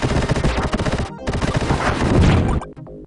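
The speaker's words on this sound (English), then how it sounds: "the satisfying sound effects that correspond beautifully to each and every movement and explosion you create in the game" Rapid gunfire bursts and crunchy explosions from the Sega Genesis game Vectorman, loud and continuous electronic effects layered over driving game music, ending in a short decaying blast.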